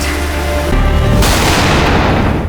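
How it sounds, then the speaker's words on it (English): A gunshot in a film scene bursts into a loud, booming blast with a sharp crack, followed by a long, noisy roar that fills the rest of the moment; no talking. "The gunshot drew the creature's attention"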